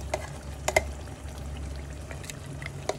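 Ground onion and yogurt paste goes into a hot pan for chicken korma, making a soft wet pour with faint sizzling and a few light clinks of a spoon against the pan. No one speaks.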